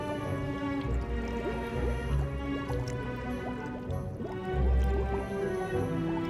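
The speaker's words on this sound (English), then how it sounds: "Now I want you to pour the liquid out into your cauldron." In the Wonderbook potion game, liquid pours into a cauldron with dripping, trickling and squishy splashes, a fuller gush near the end, over a soft layered musical backdrop.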